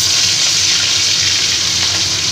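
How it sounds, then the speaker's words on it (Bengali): Katla fish pieces fry in hot mustard oil in a wok, giving a loud, steady, dense sizzle with continuous hissing crackle throughout and no talk. "এবার আস্তে আস্তে মাছগুলোকে আমি ভেজে নিচ্ছি।"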